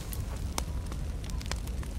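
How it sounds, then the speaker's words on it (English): A campfire burns in a video game, a soft steady crackle with a few sharper pops scattered through it, heard alone at low level. "Oh, campfire! Yes! I need to use this campfire."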